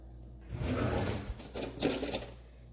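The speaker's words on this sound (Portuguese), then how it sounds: "Agora eu vou abrir a minha gaveta de talheres." A kitchen cutlery drawer slides open with a rattle of metal utensils, two clattering bursts close by in a quiet room.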